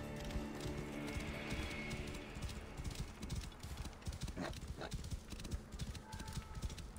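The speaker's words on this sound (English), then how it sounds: "Oh, look, a horse that is conveniently there." Horse hooves clip-clopping in the Assassin's Creed Origins video game, faint and rhythmic, mixed with ambient game sounds.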